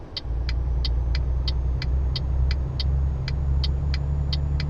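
A truck's engine in trouble in the video game Euro Truck Simulator 2, stalled mid-highway after a collision, gives a loud, steady low rumble close by, with a rhythmic high ticking, like hazard lights, repeating evenly throughout.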